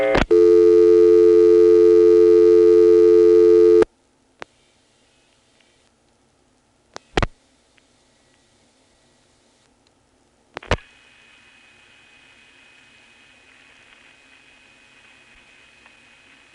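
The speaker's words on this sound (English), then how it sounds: "this is the new sound of Calling Manassas from Occoquan via T-carrier" A telephone call is dialed over T-carrier from Occoquan to Manassas on senderized step-by-step switching. A steady loud tone plays for a few seconds, then stops. Sharp isolated clicks follow through near silence, and a faint hissing line tone comes in at the end.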